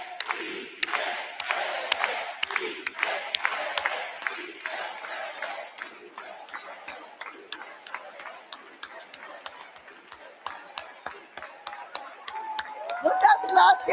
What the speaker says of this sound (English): we'll do it all together with an organized hand clap